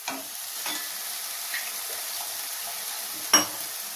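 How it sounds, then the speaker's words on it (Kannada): Ground chili paste frying in a pan over a medium flame gives a quiet, even sizzle with a few faint ticks and one sharper clink near the end. "ಸ್ವಲ್ಪ ಮೀಡಿಯಂ ಫ್ಲೇಮಲ್ಲೇ ಇಟ್ಕೊಳ್ಳೋಣ, ಇಲ್ಲಾಂದ್ರೆ ಸಿಡಿಯುತ್ತೆ ಅದು. ಸ್ವಲ್ಪ ಖಾರನ ಫ್ರೈ ಮಾಡ್ಕೋಬೇಕು."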